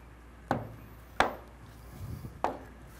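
A knife cuts food into half slices on a cutting board, three sharp, close chops spaced unevenly, with a soft shuffle between them and no speech.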